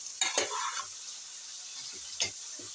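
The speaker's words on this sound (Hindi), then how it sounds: "इसमें हम तोरी ऐड कर देंगे, चलाएँगे हम अच्छी तरीके से" Ridge gourd stirred and frying with onions in a pan, a few sharp scraping stirs and sizzling bursts near at hand, separated by a soft steady hiss.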